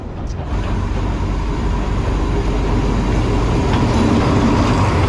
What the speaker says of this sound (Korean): 열차가 오네요